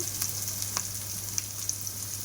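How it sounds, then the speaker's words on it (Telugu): Egg and chicken fried rice, seasoned with turmeric and salt, fries steadily in a pan with a continuous crackling sizzle and a few sharper pops as it is stirred, close and alone. "మొత్తం వేసి ఫ్రై చేద్దాం."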